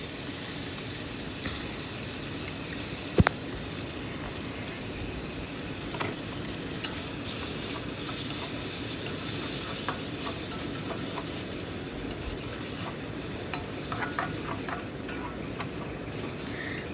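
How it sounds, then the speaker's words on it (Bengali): Washed broken wheat (dalia) sizzles in a pan with vegetables while a spoon stirs and scrapes through it in steady, repeated strokes, with one sharp clink of utensil against the pan. "তারপর ধুয়ে রাখা ডালিয়াটা দিয়ে আরও কিছুক্ষণ বেশ করে নেড়ে চেড়ে ভেজে নিলাম।"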